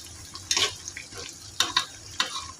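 Cashew nuts frying in oil in a pan, a soft low sizzle broken by three or four brief bursts of spatula scraping and stirring, close but fairly quiet.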